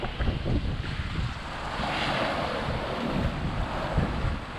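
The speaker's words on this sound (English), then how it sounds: "Rails down in the water a lot." Water surges and splashes along a heeled sailboat's hull, rail down in the water, beneath heavy wind rumble, a continuous rushing wash with a few louder slaps near the start.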